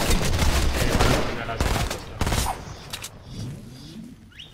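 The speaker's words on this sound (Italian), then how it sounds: "Proprio colpi, vedi?" Rapid gunfire in the video game Fortnite: a dense burst of close shots for about a second, then scattered single cracks and a quieter trailing shot, loud and sharp, with brief voices underneath.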